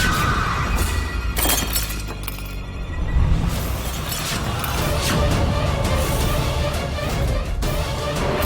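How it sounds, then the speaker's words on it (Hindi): A mirror breaks in a TV drama scene, a loud glassy crash with ringing, tinkling shards that recurs in several sharp bursts over a dense, steady background. "शीशा टूट गया।"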